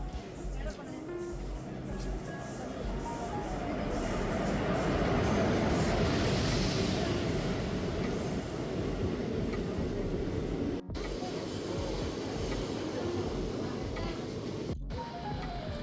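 A train rumbles and clatters nearby as it arrives at a station, swelling louder then steadying, with faint wheel squeal and a few scattered voices in the background.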